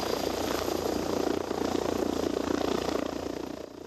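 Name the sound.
emergency helicopter at crash scene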